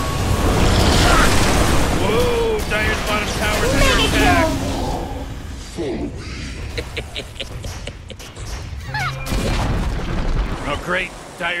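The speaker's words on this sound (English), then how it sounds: "Great, Dire's bottom tower just got destroyed!" A tower crumbling and being destroyed in Dota 2 gives a loud burst of booming, crashing game noise that fades into scattered effects, with a voice talking over much of it.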